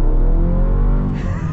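A 2023 Chevy Colorado Z71 pickup truck at full throttle, its engine giving a loud, steady, close low rumble that climbs slightly in pitch, with no talking over it.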